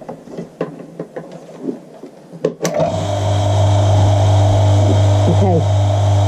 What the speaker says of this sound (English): we'll get the vacuum in. Now this is very noisy.